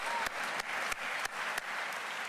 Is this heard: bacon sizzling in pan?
no